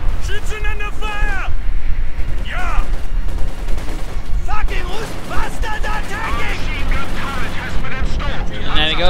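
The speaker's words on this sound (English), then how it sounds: "More heavy mortar round continue to fall down" Heavy mortar rounds land in a real-time strategy game, a loud, dense mix of booming impacts and gunfire under continuous, excited commentary from a man.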